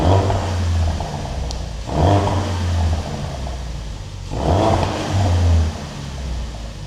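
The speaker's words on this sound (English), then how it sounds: "So here's what it sounds like original." A warm Ford Focus RS idling in normal mode with its original exhaust, a loud steady low rumble close by with three short blips of revving swelling and fading.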